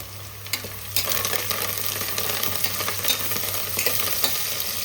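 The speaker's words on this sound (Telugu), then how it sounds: "కరివేపాకు పుదీనా చేతికి దొరికిన ఆకులన్నీ వేసేస్తున్నాను నేనేమో పుదీనా కూడా వేసానండి ఒకసారి కలుపుదాము" Curry leaves and mint go into a cooking pot for a prawn pulao and are stirred, giving a steady sizzle and frying hiss with a low hum beneath. No voices.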